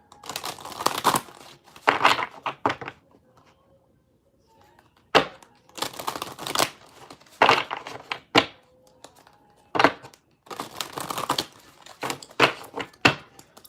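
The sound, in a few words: shuffling a deck of cards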